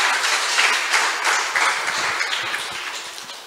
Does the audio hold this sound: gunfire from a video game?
no